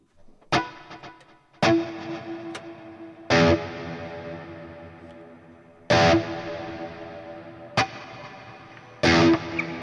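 Electric guitar chords through a Fractal amp modeler struck in bursts, each left ringing into a long reverb tail with a wet, spacious effected tone.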